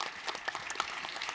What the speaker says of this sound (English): Let's have a big round of applause for all the panelists